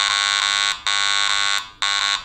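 A loud, piercing electronic iron-target tone from a Garrett AT MAX metal detector sounds in three long pulses with short gaps between them.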